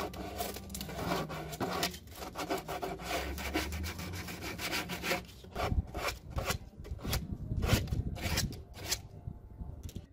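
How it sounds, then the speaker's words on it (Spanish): Steady abrasive rasping of sanding the ends of a 4-inch pipe, with repeated back-and-forth strokes that grow choppier in the second half. "Importante lijar las puntas."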